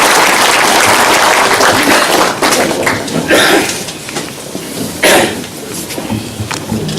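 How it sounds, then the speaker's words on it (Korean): An indoor audience applauds steadily during a flower-bouquet presentation at a provincial governor's New Year visit in Jecheon, with dense, close clapping that swells and thins briefly, plus a few sharper claps and shuffles. "힘찬 박수 부탁드리겠습니다."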